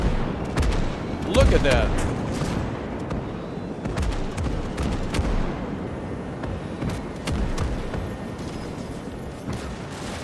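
A creeping artillery barrage in a Desert Storm campaign video game mod, heard as a dense, continuous roll of distant booms and gunfire, with a voice speaking briefly over it.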